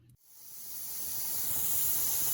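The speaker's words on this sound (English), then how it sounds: "there is steam. You can hear it." Steam hisses steadily from a pressure canner, a close, broad, continuous hiss that swells quickly after a brief click at the start and then holds constant.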